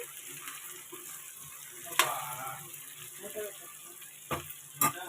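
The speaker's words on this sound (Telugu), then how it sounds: "ఈ వంకాయలని వేయించుకోవాలి కొద్దిగా బాగా" Eggplants for a Telangana-style stuffed eggplant curry fry in a pan with a steady, soft sizzle, punctuated by a few sharp clatters of stirring around the middle and near the end.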